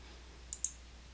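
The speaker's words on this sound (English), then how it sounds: "I can change the name just by double clicking on it" A computer mouse double-clicking to rename a style: two quick, sharp clicks close together, near and crisp over a faint steady hum.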